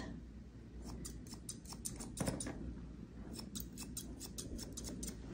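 Small scissors snip repeatedly while trimming the hair on an animal's front feet, a steady series of close, crisp cuts in irregular rhythm, with a busier flurry of snips midway.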